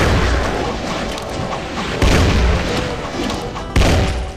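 Cacodemon pirate enemies attacking in the Pirate Doom video game, a dense barrage of booming blasts and bursts, loud and continuous, with two sharp heavy hits standing out.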